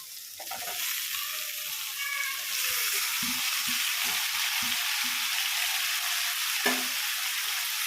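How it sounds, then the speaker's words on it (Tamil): Tomatoes frying in a pan with steady sizzling, joined by short scraping stir strokes partway through, close and fairly loud with no talk. "இப்போ நல்லா தக்காளியை கிண்டிக்கணும்."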